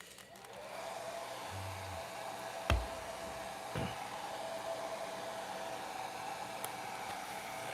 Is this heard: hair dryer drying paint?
yes